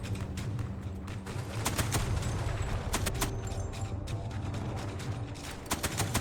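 Rapid bursts of Type 92 machine gun fire in a WWII Pacific beach-invasion video game, a steady rattling barrage with sharp repeated cracks over continuous battle noise.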